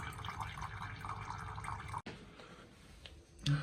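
Water runs and drips out just past a valve on a membrane filter system with heavy water use, a steady close trickle with drips that breaks off abruptly midway and then continues more quietly.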